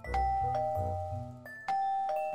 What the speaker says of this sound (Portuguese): Eu toquei campainha, mano.